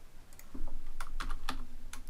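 Fast typing on a computer keyboard, a quick run of crisp key clicks over steady room hum with no talking.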